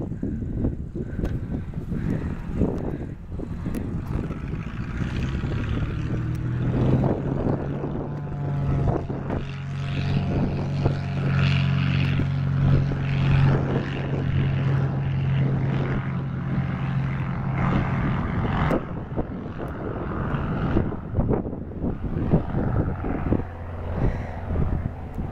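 Cessna Citation jet engines run at Erie-Ottawa International Airport, a loud continuous roar with a steady droning tone swelling in the middle, mixed with wind buffeting on the microphone.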